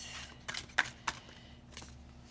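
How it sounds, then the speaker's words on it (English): Tarot cards being shuffled, a few quiet crisp riffling snaps and soft slides close by, spaced unevenly over a faint steady hum with no talking. "We'll give it a couple more shuffles and see if there's one that wants to come out."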